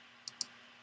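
Two quick, crisp mouse clicks in a quiet room, about a tenth of a second apart, made while copying a character in the Windows 7 Character Map.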